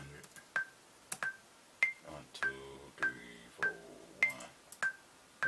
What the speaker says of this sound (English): Put my click on so I can hear my tempo.